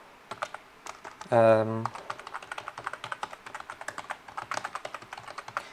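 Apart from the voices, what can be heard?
typing email address on computer keyboard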